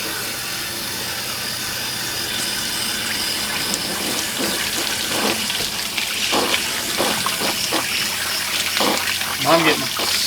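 Water gushes steadily while an RV water heater is flushed, draining into a container below, a continuous close splashing rush with a few brief voices over it.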